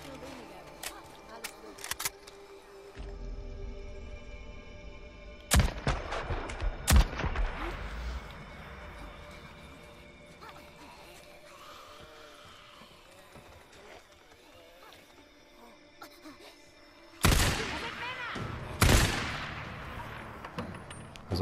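Gunfire in the video game Days Gone, with sharp broadband bursts clustered near the start and again toward the end, separated by a long stretch of quieter game ambience and movement.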